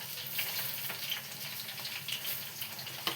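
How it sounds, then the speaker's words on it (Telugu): Mustard seeds crackle and sizzle in hot oil, with a dense, steady frying hiss and small pops close by, with no talking over it. "ఆవాలు వేస్తున్నాను."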